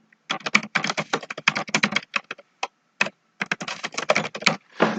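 Notes typed on a computer keyboard in quick, uneven bursts of close, crisp key clicks, with brief pauses between words and a short gap midway, no talking.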